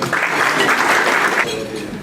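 Applause from an audience at a community gathering, a steady wash of clapping lasting about a second and a half, then tapering off quickly.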